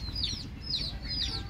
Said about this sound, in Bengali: এই দেখেন এখন খাইতেছে মুরগিটায়।